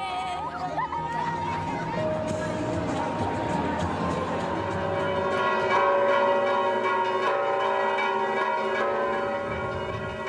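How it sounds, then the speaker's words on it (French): Bells ring with sustained, overlapping metallic tones while a crowd chatters and murmurs underneath throughout. "Le lendemain, réveil au son des cloches."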